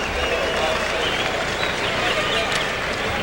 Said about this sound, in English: And a round of applause, please, for Jesus Lopez.